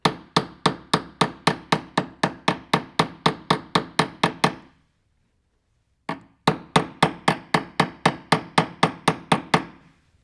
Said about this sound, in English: You take the planishing hammer with a flat side and you actually planish the corner.